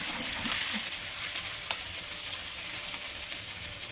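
Mushrooms with onion and a little salt frying in a pan for risotto: a steady, soft sizzle with faint stirring scrapes throughout, and no one talking.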